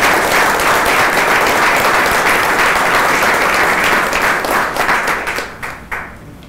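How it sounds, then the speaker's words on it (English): An audience at a community event bursts into loud, dense applause that holds steady for several seconds, then thins out and fades to scattered claps near the end. "let's give them a round of applause"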